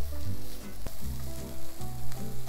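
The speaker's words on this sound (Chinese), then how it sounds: "稍微炒一下不要炒太老了炒脆脆的那种稍微翻炒一下就可以了" Vegetables and chili peppers stir-fried in hot oil for japchae, a loud close sizzle with scraping and tossing strokes of the spatula in the pan, continuous throughout.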